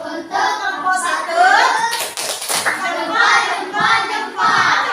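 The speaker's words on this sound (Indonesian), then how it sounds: "Tepuk tangan dulu buat kelompok 1." Children clap for a class group in a primary-school lesson, a steady patter of many small hands with a louder burst midway, while a voice chatters over it.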